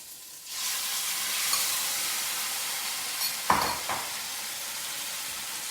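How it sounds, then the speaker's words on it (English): Hot oil hisses in a smoking-hot wok for a chicken stir-fry with summer vegetables, a steady loud sizzle broken by a couple of clanking scrapes as it is spread across the bottom. "It sizzles, which is what we want."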